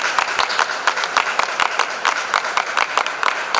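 Applause from an audience at an event with President Hichilema, heard as fairly loud, uneven bursts of hand claps lasting the whole stretch without speech.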